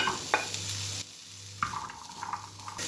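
Beetroot is added to a heated pan and begins frying for an Ethiopian cabbage dish. A soft, low hiss runs throughout, with a few quiet clacks and taps as it lands and settles.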